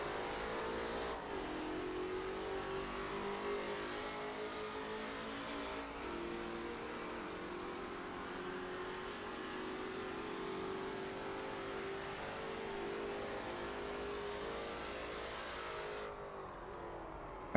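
A Ford-powered Lola T70 MkII Spyder race car in a racing game at Road America, its engine droning steadily under throttle with a gradually rising pitch, moderately loud and continuous with no talk.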